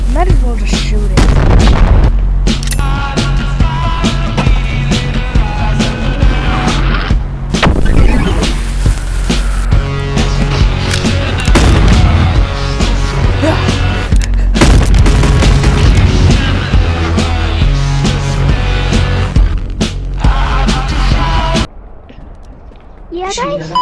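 Gunshots and heavy booms fire repeatedly in the VR video game Animal Company, loud and dense over constant game music and noise, with a brief quieter stretch near the end.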